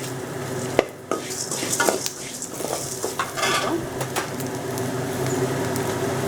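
Coriander seeds roast in a pan for a chicken roast, a close, steady frying hiss with stirring scrapes and clatter of a spoon against the metal.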